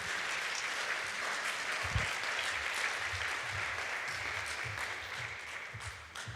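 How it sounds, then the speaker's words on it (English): Applause from a summit audience for a speaker, a continuous, fairly distant wash of clapping hands holding steady for several seconds before tapering slightly at the end. "Please give a round of applause to Dr."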